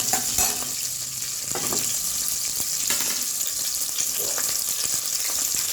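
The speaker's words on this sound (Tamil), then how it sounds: "பச்சை மிளகாய் எல்லாம் போட்டு நல்லா வதங்கணும்" Green chilies fry in hot oil, producing a loud, dense, steady sizzle close up, with faint stirring scrapes beneath the continuous hiss.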